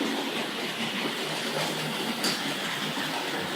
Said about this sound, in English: You can hear the clatter of those wagons, almost sort of bell-like as they come on over certain points of the track there